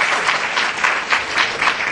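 An audience at a poetry recital bursts into sustained applause, dense clapping that swells in waves and stays loud throughout, with no speech over it.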